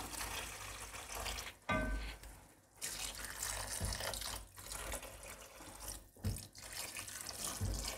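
Water runs from a kitchen tap during cooking as a steady rush, broken by short gaps and a few clatters, with no speech.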